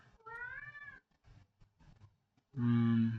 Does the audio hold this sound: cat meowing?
yes